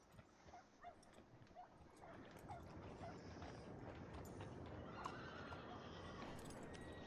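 Horse whinnies and clip-clopping hooves in Red Dead Redemption 2, a few short neighs early on, then a steadier background of hoof and ambient game noise, moderately loud with no talk.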